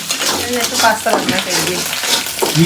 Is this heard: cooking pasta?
yes